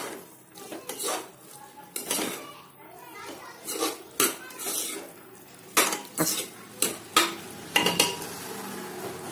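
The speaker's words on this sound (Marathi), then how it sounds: "भाजीला चांगलं परतून घ्यायचं. मसाल्यात पूर्ण व्यवस्थितपणे मिक्स करायचं." Metal spoon scraping and clinking in a pan while French beans are stirred through masala, a run of sharp clatters that grows busier toward the end, with faint voices in the background.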